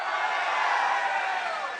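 A large rally crowd in Lawrenceville, New Jersey cheers and roars continuously, a dense wash of shouting voices holding steady for a couple of seconds.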